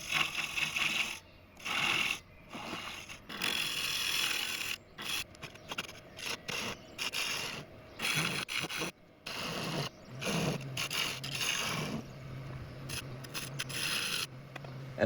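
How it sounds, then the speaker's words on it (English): A ball gouge roughing out a mortise in wood on a lathe, giving a rasping, scraping cut that comes in repeated bursts with brief pauses between passes. "I quickly switched to my ball gouge to rough out most of the mortise."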